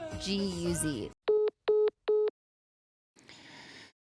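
A telephone call plays three evenly spaced, steady ring tones after a stretch of voice, then a brief silence before a faint click and a recorded voice answering as voicemail picks up.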